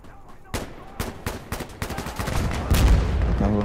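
Rapid bursts of gunfire in the video game Insurgency: Sandstorm crack out in quick succession, sharp and loud, building into a dense volley near the end.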